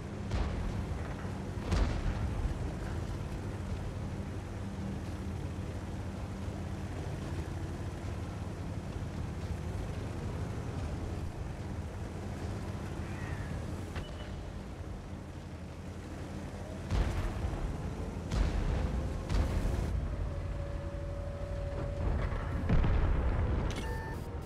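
Heavy tank cannon booms in World of Tanks, with a Ferdinand tank destroyer, punctuate a continuous rumbling engine drone, with several sharp blasts and rolling explosions near and far over the steady mechanical noise.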